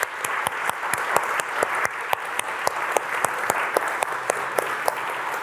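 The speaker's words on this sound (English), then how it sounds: "Round of applause for Safi." Audience at a London tech summit applauds a first-place prize winner, a moderate wash of clapping with a few sharp, distinct claps standing out at close, irregular intervals.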